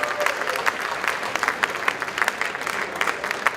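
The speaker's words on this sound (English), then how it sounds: "Let's give him a big hand." A crowd at a Rotary district event claps in a dense, even burst of applause, moderately loud and sustained for a few seconds without speech over it.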